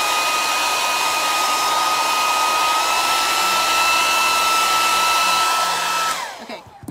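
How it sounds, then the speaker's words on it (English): A blow dryer blasts hot air over chalk paste, a loud steady whooshing roar that holds for about six seconds before being switched off. "I like to just kind of throw a little blow dryer on it quickly to kind of make sure it's dried"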